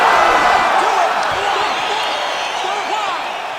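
Arena crowd roaring and cheering at the close of a fight in EA Sports UFC 5, a dense, sustained wall of voices that starts loud and slowly eases off without breaks.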